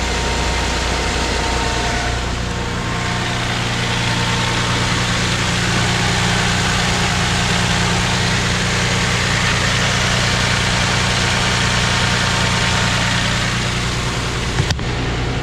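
A 2024 Toyota Tundra engine, running 5W-30 oil, idles steadily after a cold start, a constant low rumble with a hum that holds unchanged throughout, loud and close, with no voices.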